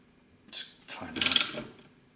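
A spanner tightens a metal connector while building a passive pre-amplifier, giving a few brief close metallic clicks and scrapes over about two seconds.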